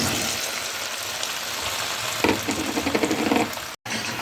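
Food sizzles and fries in a pan with oil, a steady crackling hiss that grows busier with bursts of stirring near the end, close and without talk.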